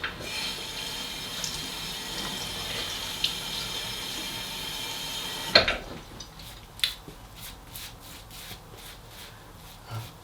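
Tap water runs steadily into a sink for several seconds, then stops with a sharp splash, followed by wet splashing and rubbing as hands wet a face before a shave, no talking.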